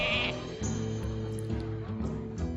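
A sheep from a Polymorph spell in Hearthstone lets out a loud, wavering bleat in a single call, followed by softer game sounds.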